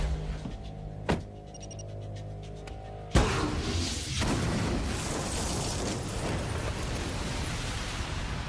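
Explosives detonate in an action film: a sharp blast hits after a low mechanical hum, followed by a loud, sustained roaring rumble and debris noise that fill the rest of the scene.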